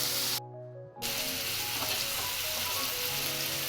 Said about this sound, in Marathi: आणि या तेलामध्ये आता सगळा मसाला आपण ॲड करून घेणार आहे